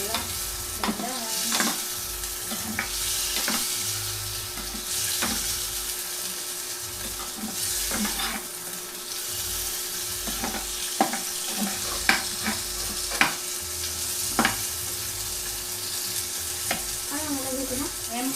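Garlic sizzles steadily in a hot frying pan for an ulam dish at home, with a spoon or spatula scraping and clacking against the pan at irregular intervals throughout.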